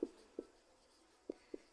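A pen writes by hand while solving maths equations, four soft, faint taps spread unevenly over a quiet moment.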